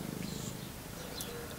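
A cat purrs softly and close by in a brief, steady rumble, with faint background sounds above it.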